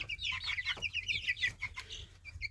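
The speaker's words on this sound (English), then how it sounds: "looks like there might be 2 roosters in here." Several young Jersey Giant chickens cluck and chirp in quick, overlapping bursts, close by, over a low background hum.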